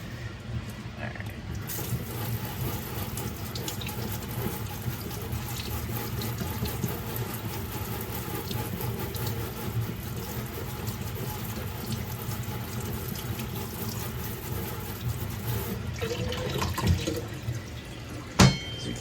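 Steady running tap water pours into a kitchen sink while a zucchini is washed under it, a continuous close splashing rush with faint handling sounds and a small knock near the end, no talking.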